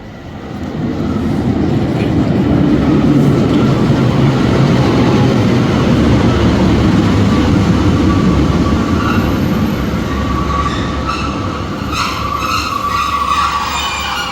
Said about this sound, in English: Welcome aboard this Northern Train to Newcastle.